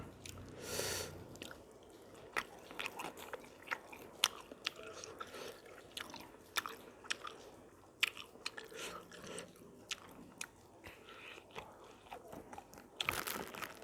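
Close, crunchy chewing of brown rice eaten with spicy Thai-Lao dishes such as fish-paste chili dip and steamed small fish, with irregular bites, squishes and smacks, alone and fairly quiet.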